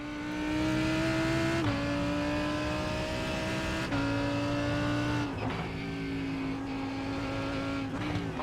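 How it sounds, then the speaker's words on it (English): Race cars at Imola in the iRacing sim, a steady engine drone with several gear shifts as the pitch drops and climbs, a faster car closing in with the whine building throughout. "There's a faster car bearing down on you"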